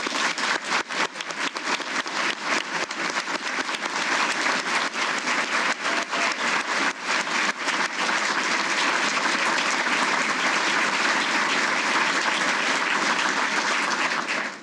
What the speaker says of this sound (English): Let's give Michelle a round of applause